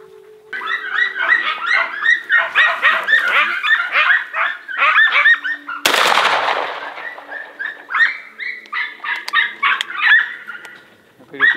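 A dog barking in rapid, repeated yelping bursts, close and loud, interrupted midway by a sudden sharp gunshot during a rabbit hunt before the barking resumes.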